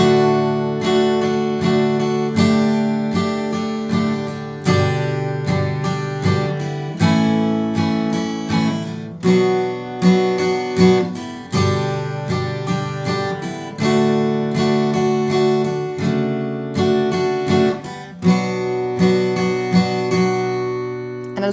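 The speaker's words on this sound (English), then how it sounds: "let's try our strumming pattern." Acoustic guitar slowly strumming the chords of a song in 3/4 time, steady down-up strokes ringing clearly and alone at a moderate volume.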